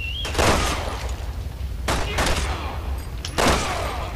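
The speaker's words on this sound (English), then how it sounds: "Just take pot shots at this guy." Bursts of gunfire in the video game Resident Evil 6, three loud volleys spaced about a second and a half apart, each a broad noisy crack with a short tail, over a steady low rumble of game ambience.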